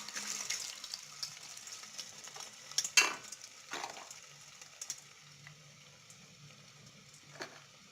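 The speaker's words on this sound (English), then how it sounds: "my oil is already boiling, and sadly it has burnt kidogo" Cassava fries deep-frying in already boiling, slightly burnt oil, giving a steady low sizzle and crackle with a few louder pops and stirring clatters partway through.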